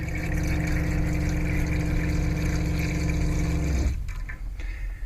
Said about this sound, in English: now we'll turn on the tap to flush antifreeze through the pipes and down the drain.